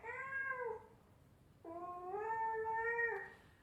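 A cat meows twice alone in a quiet room, the first call short and falling, the second longer and rising then drawn out, both clear and close.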